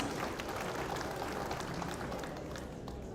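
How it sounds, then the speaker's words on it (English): A crowd claps steadily in a dense, even patter of applause that continues throughout at moderate volume. "Let us give her a round of applause, please."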